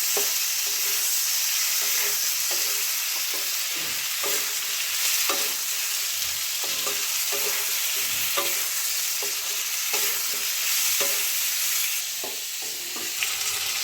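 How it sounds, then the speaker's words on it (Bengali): Cabbage curry with tomato being stirred in a frying pan, a steady close sizzle with repeated scraping strokes of the spoon throughout, no voices. "টমেটোটা দেওয়ার পরে 2 মিনিট মতো এটা ভালো করে মিক্স করে নেব।"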